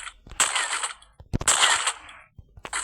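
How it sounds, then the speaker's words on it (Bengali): A sniper rifle fires in a mobile shooter game, sounding as two sharp cracks about a second apart, each followed by a bright mechanical rattle of the bolt and scope, with no talking. "এভাবে স্নাইপার চালাতে হয়"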